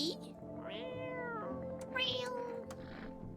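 A cat meows a few times in a horror video game, its cries rising over a steady hum of ambient game music, with a voice speaking faintly beneath.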